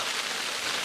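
Steady rain hisses down at a campsite at Okubiwako on Lake Biwa, a close, even wash of drops with no pauses and no voices over it.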